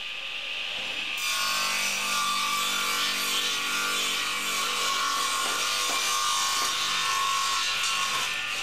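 A DeWALT radial arm saw makes a bevel cut in wood, with a steady loud whining cut that starts after a second and holds without break, no voices over it.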